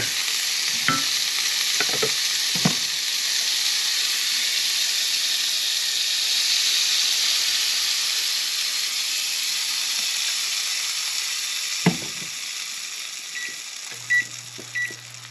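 Pancakes fry in butter in a cast iron pan with a steady, close sizzle and hiss throughout. A few soft scrapes and taps of a utensil break in now and then, and faint beeps sound near the end.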